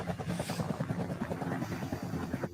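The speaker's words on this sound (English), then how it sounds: "Very realistic helicopters." Helicopters in a film sequence give a rapid rhythmic rotor chop, quiet and steady across the short stretch, with no talk over it.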